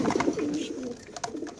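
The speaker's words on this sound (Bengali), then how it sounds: "খুবই সুন্দর এই কবুতর মাশাআল্লাহ, দেখতে পাচ্ছেন।" Pigeons coo in soft, throaty bursts close by, several overlapping calls at a market stall selling racing pigeons, with faint background murmur.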